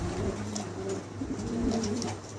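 Several pigeons coo softly in a repeating, low rhythm, close by at a market stall selling pigeon pairs, over a steady background hum with no talking.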